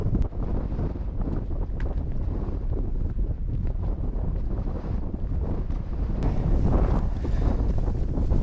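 Strong wind buffets the microphone on a bleak Peak District hillside near Mount Famine, a continuous loud low roar with gusty fluctuations and a few small clicks, with no voices.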